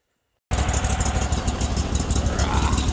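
A Sears Suburban loader's small engine firing up abruptly after silence and running loud and close, a rough steady idle with a fast throbbing pulse.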